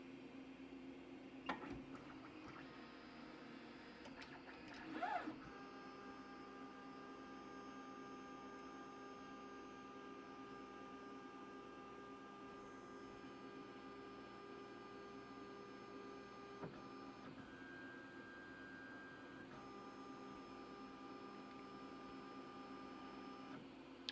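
A Lulzbot Taz 6 3D printer auto-homes, giving out faint steady stepper-motor whines that change pitch in several stages, with a couple of small clicks near the start, in a quiet room.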